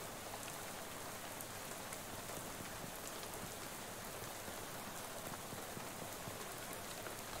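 Steady rain falls in Shadows Over Loathing, a dense even hiss of drops pattering on surfaces, continuous and fairly loud with no voices.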